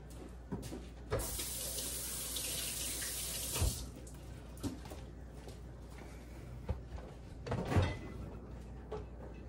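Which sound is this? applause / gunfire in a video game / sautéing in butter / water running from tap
water running from tap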